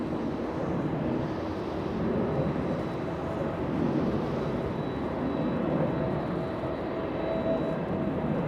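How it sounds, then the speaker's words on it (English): An Airbus A380 airliner on short final approach at LAX, a steady broad engine roar held at an even level throughout, with faint higher tonal whines threading through it. "We have A380 on short final, and American Airlines still on the runway."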